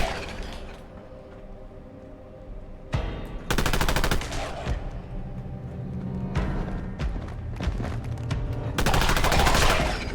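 Machine gun fire in the Fallout London video game, loud rapid bursts in several separate volleys over a constant ambient game background, with the last burst running to the end.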